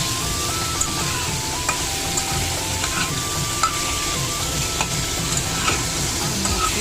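Mango chutney with turmeric fries in a pan, giving a steady sizzle over a gas flame, with scraping stirs and light clicks of a utensil against the pan throughout.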